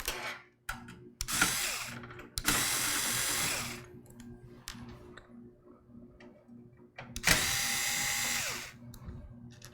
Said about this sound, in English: We'll take the other 4 screws out so we can get the memory card reader and the floppy drive out of here.